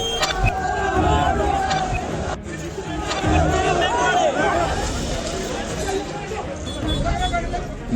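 Protesters at a district collectorate surge and shout while police wield batons, a loud, dense roar of overlapping yells and agitated voices that runs unbroken and swells several times.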